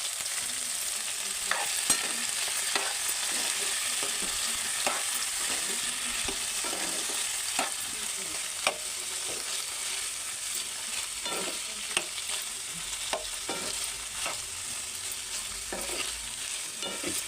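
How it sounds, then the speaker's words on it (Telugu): Potato and cauliflower pieces fry in oil for aloo gobi, giving a steady soft sizzle broken by frequent scraping stirs at irregular intervals, with no voices. "పొటాటోలోంచి మనం గోబీ కూడా ఇలా వేయించుకోవాలి."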